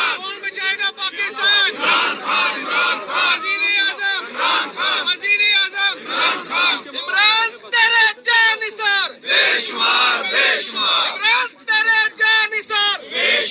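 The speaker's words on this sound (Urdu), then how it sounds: "اس وقت جو وہاں پر جو نعرے لگ رہے ہیں، پہلے میں آپ کو سناتا ہوں" A large crowd chants slogans outside a jail in loud rhythmic bursts, voices rising together in repeated shouted phrases with short pauses between.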